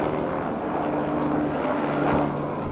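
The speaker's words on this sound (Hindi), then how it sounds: "अभी बैक टू बैक हेलीकॉप्टर चल रहे हैं यहाँ पे।" Helicopters fly back to back over Kedarnath on the pilgrimage's opening day, a steady, dense rotor and engine roar that stays loud and even throughout, with no speech.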